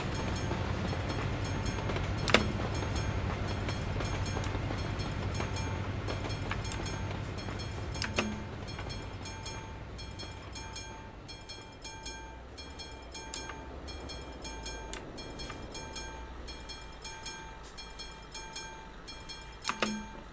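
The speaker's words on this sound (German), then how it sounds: "Ah, kommt noch ein Zug." A train rumbles past a level crossing in Euro Truck Simulator 2, a long steady rolling clatter with occasional sharp clicks and knocks, gradually easing off over about twenty seconds.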